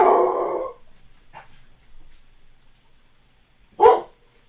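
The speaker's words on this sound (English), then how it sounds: "Alright, dogs, we're not going to bark now." Indoor dogs bark in a few separate bursts: a loud opening bark, faint yelps, a pause, then another sharp bark near the end.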